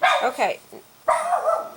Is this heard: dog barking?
yes